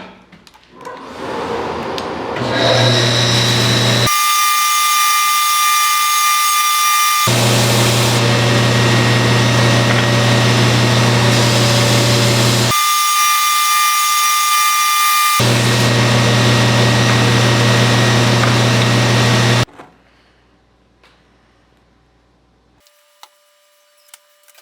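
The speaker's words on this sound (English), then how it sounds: "So now I'm going to belt sand this flat and this flat" A belt sander flattens maple shims, running with a steady loud whine and hum; the sound drops out sharply in regular gaps as if edited, then stops, leaving near silence with a few faint clicks.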